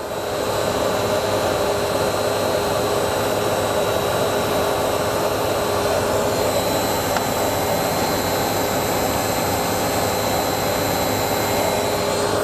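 A running pump heard at its drive-end bearing through a measuring probe, giving a loud, continuous, unchanging mechanical roar and whine with no breaks.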